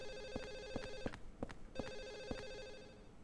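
A telephone rings in the video game Silent Hill 4, sounding as repeated electronic ring bursts with short pauses between them over a faint ambient background.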